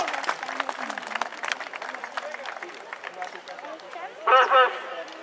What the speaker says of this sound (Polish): Duże brawa, dziękujemy.